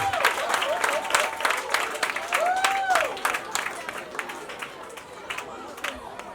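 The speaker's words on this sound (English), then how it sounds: "Please help me with a round of applause." Crowd applause with scattered clapping and cheering, fairly loud, mixed with voices and chatter that continue as it fades.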